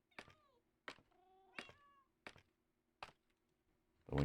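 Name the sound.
cats meowing in Minecraft video game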